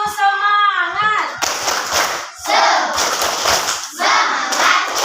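A class does a rhythmic spirited clapping chant during an ice-breaking warm-up, opening with a young voice's sung call, then loud bursts of group shouting and clapping in repeated waves.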